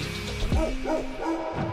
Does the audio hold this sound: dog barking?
yes